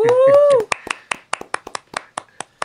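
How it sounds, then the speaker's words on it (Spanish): Clapping for a guest pastor on a Spanish-language church podcast: a short run of about a dozen distinct, fairly close hand claps at a steady rhythm, right after a brief spoken phrase. "Un aplauso para él."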